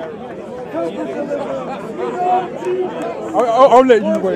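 Dense crowd chatter at Speakers' Corner, a public debating spot, with many overlapping voices close by and a nearer voice speaking over the hubbub.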